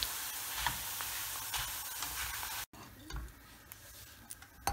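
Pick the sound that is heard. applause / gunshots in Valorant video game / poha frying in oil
poha frying in oil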